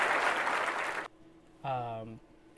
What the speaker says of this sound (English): Applause! Everybody in the